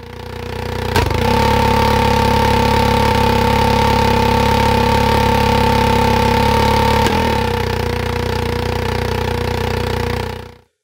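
A loud, steady simulated engine drone with sharp pops near the start and again later, caused by a sudden rise in ambient pressure sending a shock wave through the system, holding level before cutting off at the end.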